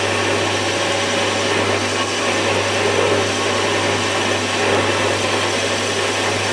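Warco WM180 metal lathe running under power feed in a workshop, a steady motor hum with a strong low tone and a constant broadband whir, close and unchanging, without speech.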